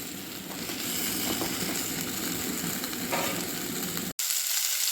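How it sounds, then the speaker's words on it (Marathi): Cauliflower sautéing in a pan for a mixed vegetable dish, a dense, even close sizzle that carries on without a break apart from one brief cut near the end, no voices. "टाकून घ्यायचा फ्लॉवर पण व्यवस्थित परतून घ्यायचा"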